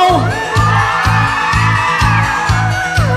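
Women and girls at a wedding party squeal in high-pitched, drawn-out shrieks. The squealing rides over loud dance music with a regular, pounding beat.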